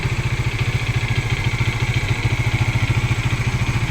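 A Kawasaki 400cc motorcycle idles close by, a steady rapid low putter with an even rhythmic pulse throughout.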